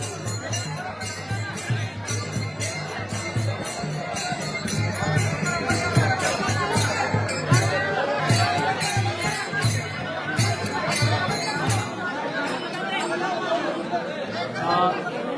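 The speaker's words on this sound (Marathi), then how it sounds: "त्यांच्यावर प्रेम करणाऱ्या सर्व नागरिकांनी अशा प्रकारे गर्दी केल्याचं दिसत आहे" Mourners crowd together outside a leader's residence, and their voices form a steady murmur of chatter. The sound is moderately loud and continuous over a constant low hum, with no single voice standing out.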